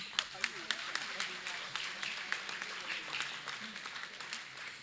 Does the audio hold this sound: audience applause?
yes